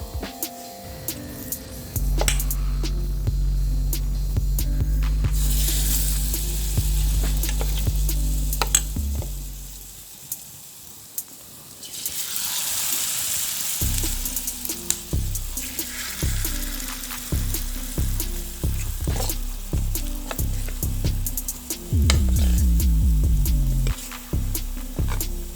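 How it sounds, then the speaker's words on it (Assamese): Okra pakoras fry in hot oil with a continuous crackling sizzle and occasional stirring clinks, broken by a brief quieter pause partway through; no one speaks. "ব্ৰাউন কালাৰ হোৱালৈকে মই ভাজি থাকিলোঁ।"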